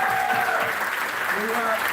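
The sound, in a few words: crowd applause at brewery venue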